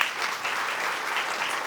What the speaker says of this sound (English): please join me in extending a warm welcome to our esteemed chief guest, Mr. Suraj Karkera, with a huge round of applause